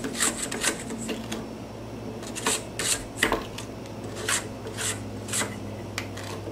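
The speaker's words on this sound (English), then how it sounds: "So we scrape the bowl." A spatula scrapes a bowl of spritz cookie dough in a series of short, soft rasping strokes at an uneven rhythm, close and fairly quiet, with no talk.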